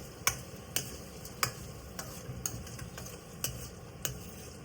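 Onions fry in a pan for drumstick curry, a soft continuous sizzle under regular, evenly spaced clicks of a utensil against the pan.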